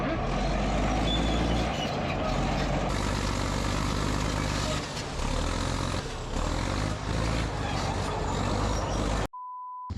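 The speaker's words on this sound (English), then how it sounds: "It's 10 minutes of Dozer Dave running our old D8." An old Caterpillar D8 bulldozer, low on transmission fluid, runs steadily with a loud, rumbling diesel drone and clanking while building a road. The sound cuts off abruptly near the end.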